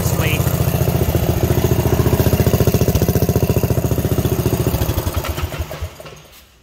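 A mini bike engine with an exhaust leak at the header idles loudly nearby with a rapid, uneven popping chug, sputtering and slowing toward the end as it winds down.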